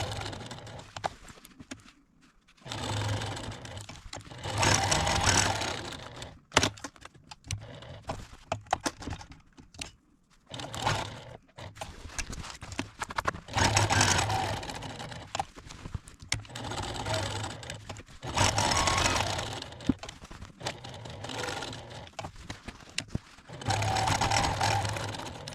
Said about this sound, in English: I will quilt it just like I did the bottom part by stitching on the diagonal lines